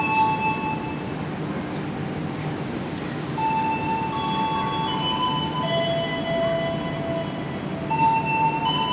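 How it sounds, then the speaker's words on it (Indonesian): Sancaka passenger train bound for Surabaya Gubeng pulling out of Yogyakarta station, a steady rumbling roar of rolling wagons with scattered thin metallic squeals and tonal whines, close and continuous, no talking. "Kereta api Sancaka dengan nomor perjalanan 84 tujuan Surabaya Gubeng persiapan diberangkatkan dari stasiun Yogyakarta."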